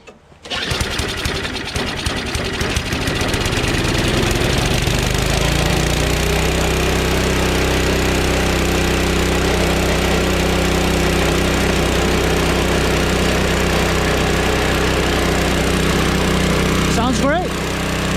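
Craftsman 522 push snowblower engine on choke at full throttle, pull-started and then running steadily at a loud, close, continuous roar throughout.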